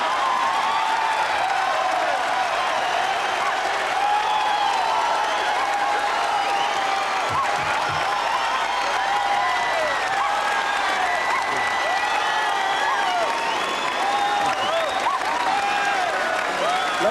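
Sustained applause and cheering from a television studio audience at a 1993 tribute show for a singer, a dense, steady roar of clapping with occasional whoops lasting throughout.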